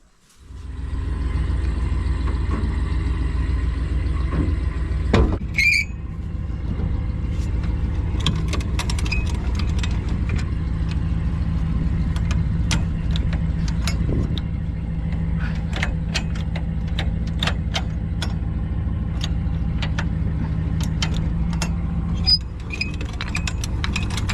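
A farm truck engine idles nearby in a steady low rumble that runs unbroken for over twenty seconds, with occasional clicks and knocks over it and no talking.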